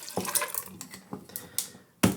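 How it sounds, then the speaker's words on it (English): Emerald City Cosmo cocktail, tinted pink and green with lime jello, poured over ice, with splashy liquid bursts and clinks of ice in several uneven pulses, close and moderately loud, with no talking. "Pour this over ice,"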